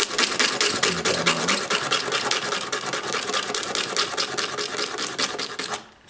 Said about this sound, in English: Sanding it is an ordeal